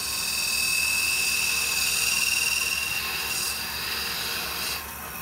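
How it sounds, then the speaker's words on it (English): A skew chisel cuts into spinning wood on a lathe while a natural-edge goblet is turned, a steady whining, rushing hiss that holds for several seconds and then drops off near the end. "We can take our skew chisel so we get a really clean cut on the inside."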